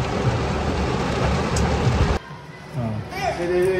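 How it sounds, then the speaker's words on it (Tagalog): Heavy rain pours down in a loud, dense, steady roar for about two seconds, then cuts away to a quieter scene where people talk. "Kasi sobrang lakas ng ulan."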